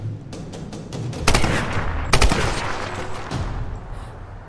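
Gunfire in the video game Tomb Raider comes as a quick burst of several loud shots, with a couple of sharper cracks standing out against a dark, rumbling game background.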